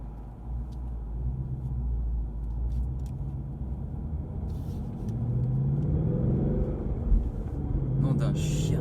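A Ford Mustang GT with about 450 horsepower rumbles low and steady while cruising on an open road, the engine note rising gently as it pulls, heard from inside the car with no talk.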